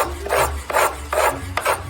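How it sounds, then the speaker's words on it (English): A file rasps back and forth on mandolin fret wire in four even strokes, close and fairly loud, with no voices. "After I'd clipped and filed the fret wire to be a perfect fit in each and every individual fret"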